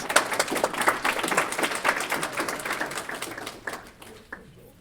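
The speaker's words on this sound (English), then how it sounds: "So another round of applause, please." A small group gives presenters a lively round of applause in a room, with close, dense clapping that thins out and trails off into a few last claps.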